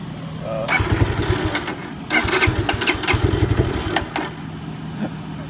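A cheap project motorcycle's engine, treated with Seafoam, sputters and revs unevenly in two rough bursts close by, with people talking around it.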